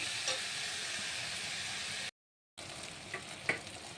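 Chicken with tomato, salt and turmeric sautés in a pan for a country-chicken curry with green peas, giving a steady near sizzle, a brief gap of total silence midway, then stirring taps and scrapes.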